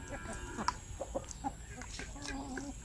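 Native chicken hens cluck softly in short, scattered calls over a low background murmur, a few birds close by.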